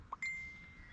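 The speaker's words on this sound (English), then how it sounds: "Ding! Some kind of notification." A single faint, clear notification ding, a short bright chime with a brief ringing tail, sounds over quiet outdoor background.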